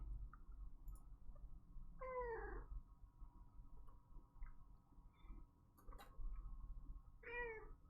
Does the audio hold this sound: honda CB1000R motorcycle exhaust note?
no